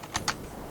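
Two sharp keystrokes land in quick succession on a computer keyboard during a PC game session, close and crisp against a faint background hiss.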